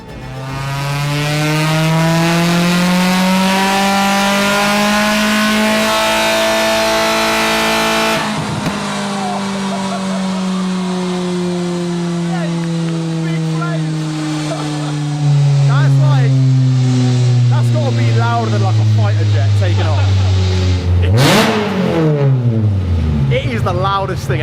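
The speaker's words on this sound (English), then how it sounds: "So now the Fusion's on the dyno and we're all ready to go, we could do the first power run." A modified 200 bhp Ford Fusion ST revs hard on a dyno power run, its engine note loud and close as it climbs steadily, drops off briefly, then climbs again through a long second pull before a sharp lift-off near the end.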